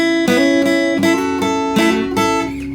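Acoustic guitar strummed with the strings left undamped, in a steady rhythm, about six ringing strokes that sustain and blend into each other, close and loud with no talking.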